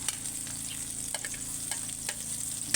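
Onion and garlic sizzling and frying in a pan while cooking chicken tinola, a steady close crackle with occasional stirring scrapes, no talking.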